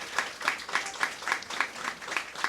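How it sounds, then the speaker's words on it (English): Brief, fairly quiet round of clapping from an audience at a community group's monthly meeting, with distinct individual claps in a loose, even rhythm. "So let's applaud."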